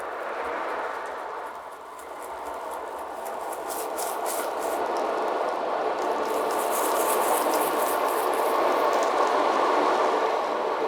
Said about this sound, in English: When I bring in the ocean drum, I just lift one edge.